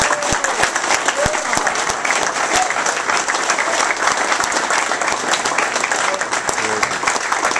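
Loud, sustained applause from a crowd honoring cigar maker Jose Orlando Padrón at an evening event, steady clapping with occasional voices and cheers running through.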